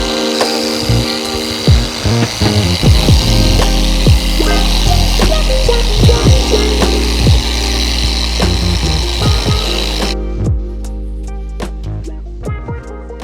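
Loud, continuous whir of an electric orbital sander working a car bumper, with rattling scrapes and knocks, then it winds down into a quieter hum.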